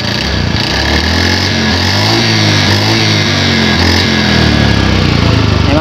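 Honda Beat Street motorcycle engine with a worn piston, running steadily up close with a continuous loud mechanical drone and rattly harmonics, no voices.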